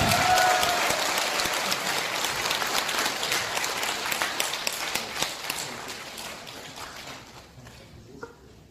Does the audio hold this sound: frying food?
no